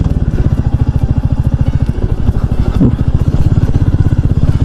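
A motorcycle rides over a badly broken road, its engine thumping in a steady, loud, close rhythm with rattling and clatter from the rough surface.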